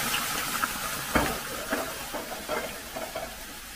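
Vermouth poured into a pan of sweated-down vegetables for a Finnish salmon dish, giving a soft, steady sizzle with a few light clinks and stirring taps, fairly quiet and close.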